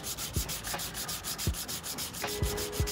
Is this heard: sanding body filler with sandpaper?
yes